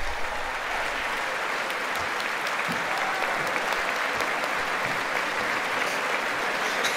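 Steady, dense applause from a large audience at the State of the Union address fills the whole stretch, loud and continuous without a break.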